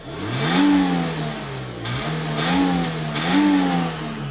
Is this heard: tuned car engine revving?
yes